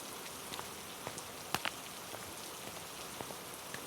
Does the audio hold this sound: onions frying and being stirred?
no